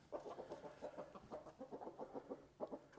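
Large American Brahma roosters and hens cluck in a soft, rapid, rhythmic patter, faint and somewhat distant, with no talk over it.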